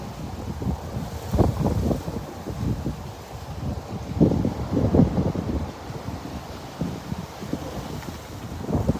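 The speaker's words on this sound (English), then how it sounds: "I hope it's not too windy." Wind buffeting a microphone outdoors on a hot day in Sarasota, Florida, a loud continuous low rumble with gusty surges and no voice over it.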